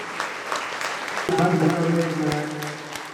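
An audience claps at a Bhagwat Katha, a short burst of crowd applause mixed with a held musical tone and voices in the background.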